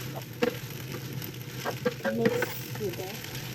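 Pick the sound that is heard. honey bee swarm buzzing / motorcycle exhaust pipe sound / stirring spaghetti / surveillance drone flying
stirring spaghetti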